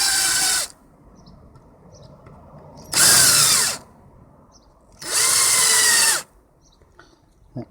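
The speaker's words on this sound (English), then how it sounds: "Now a little bit of countersinking." A power drill countersinks screw holes while building a 30W LED garden solar light, whining loudly and up close in three separate bursts with quiet pauses between them.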